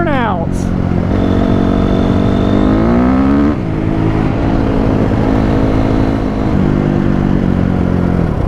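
A Honda CRF250R dirt bike engine revving hard during burnouts, loud rising and falling revs with sweeping pitch changes and rough clatter, close by and continuous, with voices underneath.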